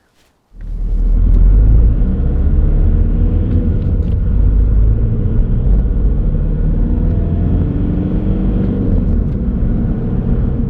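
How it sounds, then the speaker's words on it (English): A car engine starts and settles into a loud, steady low rumble while driving, with road noise carrying on evenly for around ten seconds. "we'll just jump in the car and get going"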